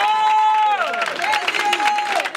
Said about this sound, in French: On applaudit très très très fort.